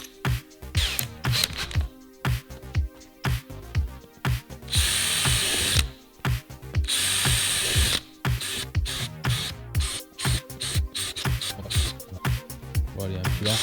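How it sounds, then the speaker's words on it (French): A power drill bores small holes in a cracked plastic car bumper during a repair, with repeated short, loud whirring bursts and brief pauses between them, plus a couple of longer sustained runs. "Ensuite, on va faire les petits trous."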